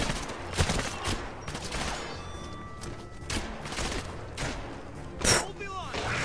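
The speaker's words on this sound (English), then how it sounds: "try to use the sun gun to your advantage, because wherever it aims, it will cause an explosion, so anything that's near it will basically fly away" Explosions from the sun gun weapon in the 007 Legends video game, Die Another Day mission, go off amid a clatter of gunfire, with several sharp bursts and booms spread across the stretch over a steady game background.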